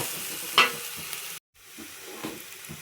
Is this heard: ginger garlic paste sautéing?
yes